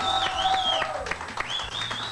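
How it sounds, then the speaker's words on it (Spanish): Crowd applause for country music on a Chilean TV game show, steady clapping under a whistling, sliding tone and a few shouts from the crowd. "¡Un fuerte aplauso por la música country!"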